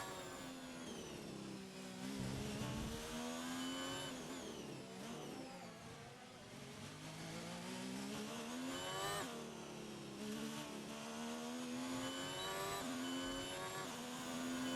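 Formula 1 race car engine screaming through a qualifying lap in the F1 2019 video game, a loud continuous high-revving whine rising and falling with gear shifts throughout, no talk.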